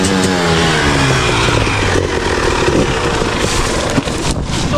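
A KTM 300XC two-stroke dirt bike, brand new, revs and rides nearby with a loud buzzing, rising and falling engine note over continuous trail rumble.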